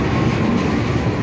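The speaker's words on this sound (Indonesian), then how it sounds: "ini kereta api telah datang di stasiun Porong" Commuter train pulling into Porong station, a loud steady rumble of wheels and rolling stock that fills the whole moment without a break.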